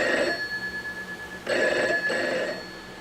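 Telephone bell ringing in a video game, two electronic trilling rings, each about a second long, with a pause between, clear and close.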